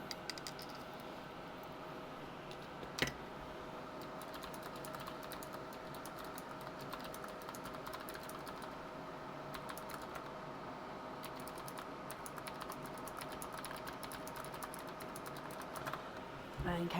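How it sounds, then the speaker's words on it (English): Rapid keystrokes clatter on a computer keyboard in a quiet room, a continuous run of soft, close taps with one sharper knock near the start. "I apologise for going to the keyboard then."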